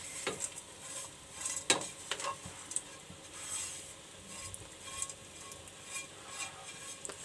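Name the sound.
stirring date halwa mixture with dry fruits and cashews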